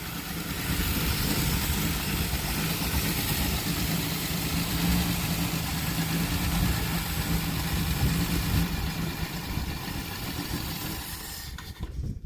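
A 1968 Plymouth Valiant engine idling steadily on its first start in 24 years, a continuous close rumble that holds even throughout and falters briefly near the end.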